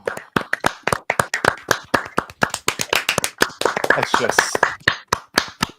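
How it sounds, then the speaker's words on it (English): A few people clap close to the microphone in a podcast studio, sharp separate claps in an uneven rhythm, briefly overlapping with laughter and a voice near the middle. "Let's just drag it out and keep clapping."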